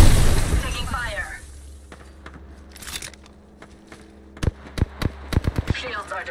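Rapid bursts of gunfire in the battle royale shooter Apex Legends, a sharp cluster of snappy shots toward the end, with a low rumble and muffled voice chatter underneath.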